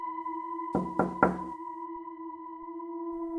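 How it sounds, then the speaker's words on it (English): Three slow, deliberate knocks on a front door, solid and close, sounding over a steady low electronic drone. "3 slow knocks at the front door"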